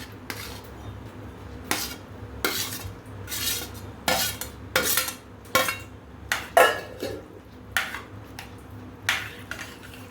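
Tomato and amla pickle pieces being mixed in a pan with a metal spoon, making a series of loud, sharp scraping and clanking strokes in an irregular rhythm, close up, with no talk.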